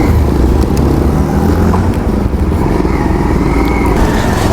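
Bajaj Pulsar 150 and Pulsar 200 NS motorcycles riding together, a loud, continuous engine drone with heavy wind rumble throughout.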